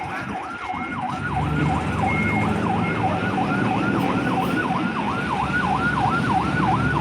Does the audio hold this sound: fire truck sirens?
yes